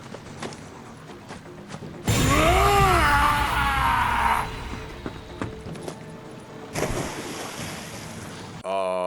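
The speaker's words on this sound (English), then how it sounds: "the only way out is diving headfirst into the river" A big splash as a character dives headfirst into a river in the Vietnam zombie shooter ShellShock 2, a loud rushing burst lasting about two seconds, followed by game ambience and a second wash of water noise.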